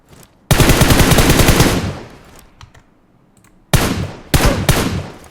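Automatic gunfire in a PUBG Mobile solo match on Erangel: a long, loud sustained burst, a quiet gap, then two shorter sharp bursts close together.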